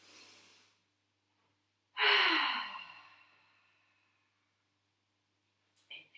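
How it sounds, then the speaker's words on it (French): During a children's yoga session, one loud, deep breath is drawn in and let out in a long sigh, set apart by near silence, with faint breathing at the start and a short sound at the end. "vous pouvez respirer fort"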